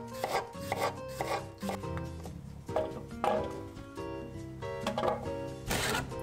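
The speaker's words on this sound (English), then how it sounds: "I'm just peeling the cucumbers and then I'm going to cut them up" A knife chops cucumbers for salsa on a board, with a series of crisp, uneven close cuts and short pauses between them, and no talking.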